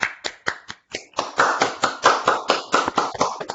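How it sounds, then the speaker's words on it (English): Applause for a speaker at the close of a talk: a few separate claps at first, then steady, dense clapping from a small group, fairly close and with no talk over it. "We should unmute and applaud you, Rich."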